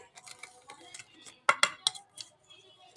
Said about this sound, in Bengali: ময়দাটাকে আমি আবারও মিশিয়ে নিচ্ছি